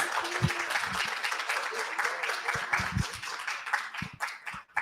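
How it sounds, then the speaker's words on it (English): Audience applause at a live book event for the author of The Three Mothers, a dense steady patter of clapping from a room of listeners that stays loud and continuous, then begins to thin toward the end. "Please give them both another round of applause."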